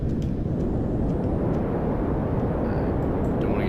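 A spaceplane's engine roars steadily in Kerbal Space Program as it flies low and fast through the atmosphere. The broad, dense rumble holds at a constant, loud level with no pauses throughout.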